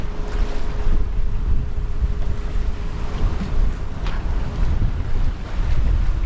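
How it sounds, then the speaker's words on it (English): Strong offshore wind buffets a sailboat at sea, a steady loud roar of gusts and microphone wind noise over rushing waves and hull sounds, continuous throughout with no voices. "And the wind started pushing in from the east-northeast,"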